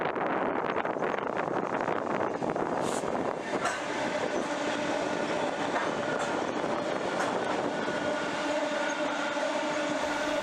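A heavy freight train, an empty cattle train in Queensland, Australia, rumbles past nearby, with steady wheel clatter, rattling wagons and faint squeals.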